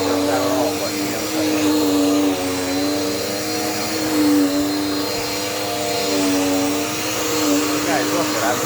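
A Dirt Devil Power Max vacuum cleaner runs loud and steady throughout with a whining tonal drone, while a person talks over it.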